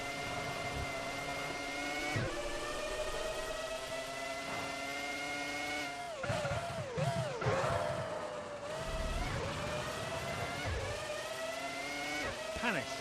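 A Toyota Formula One car's engine from a 2004 racing video game at the Malaysia circuit whines steadily at high revs, with pitch dips and surges through gear changes, under continuous commentary.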